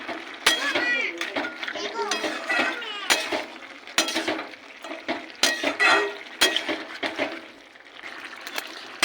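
Spinach vegetable curry with potatoes, cumin powder, sugar and sun-dried lentil dumplings is stirred in a pan. A spoon scrapes and clinks in repeated sharp knocks against the metal while someone talks over it.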